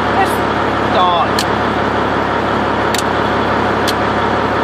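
A Freightliner Classic truck engine runs at a steady, rumbling idle close by, a constant low drone with brief clanks while people talk over it.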